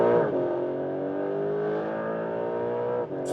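A Porsche 911 GTS Hybrid on a racetrack gives a loud, close engine note held at a steady pitch for a few seconds, with no one talking.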